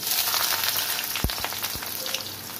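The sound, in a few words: chopped onions frying in oil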